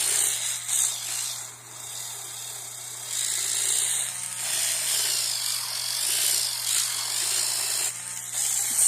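An electric callus remover pedicure tool runs close by with a steady whirring buzz and a gritty grinding rasp that rises and eases as it presses against skin, with no voices.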